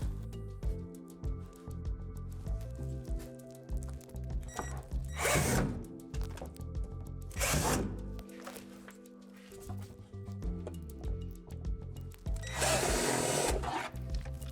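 A 3/8 drill bit boring out divots underneath a playset slide during assembly, heard as intermittent whirring bursts of a power drill with pauses and handling clatter in between, fairly close and moderately loud.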